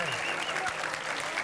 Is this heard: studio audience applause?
yes